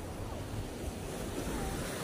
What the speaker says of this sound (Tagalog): Nagsasalpukan ng alon.